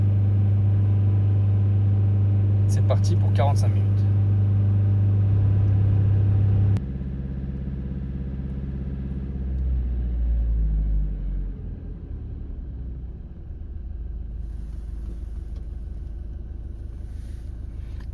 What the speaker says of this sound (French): on a le régime moteur qui augmente tout seul